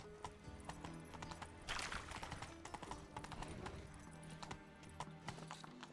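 Hoofbeats of Roach, Geralt's horse in the video game The Witcher 3: Wild Hunt, galloping in a fast, close, steady clip-clop rhythm over ambient game sound.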